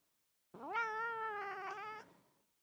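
A pet cat being held gives one long, drawn-out, unhappy meow, close and loud, rising at the start and holding steady before fading out.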